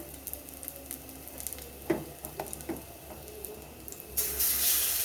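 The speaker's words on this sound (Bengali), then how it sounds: "অল্প তেলের মধ্যে দেখো খুব সুন্দরভাবে ভাজাও হয়ে যাচ্ছে" Bread snacks frying in a little oil with masala, a soft steady sizzle with light scraping and a few crackles, turning to a brighter hiss near the end, close and quiet with no talking.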